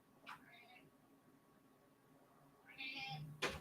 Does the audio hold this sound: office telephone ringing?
no